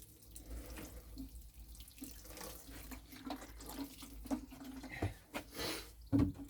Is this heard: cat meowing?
no